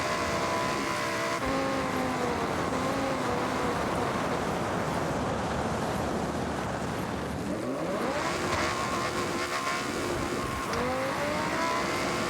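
Lamborghini in Forza Horizon driving through snow, its engine droning steadily with rising and falling gear pitches, revving up after shifts over a continuous road roar.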